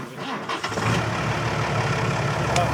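A tractor engine on a New Caledonian bush cattle farm starts up and settles into a steady, fairly loud rumbling idle close by, with no talk over it.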